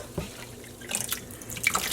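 Water drips and splashes in a sink while a dyed sock blank is being washed, a few distinct drops and squishy bursts scattered over a quiet background.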